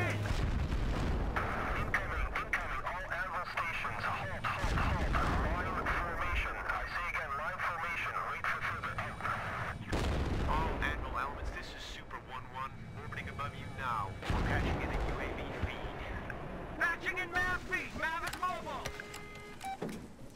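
Incoming artillery fire during a tank assault in Battlefield 3, heavy booming impacts landing repeatedly amid rumbling engines and radio chatter, with someone speaking over the barrage.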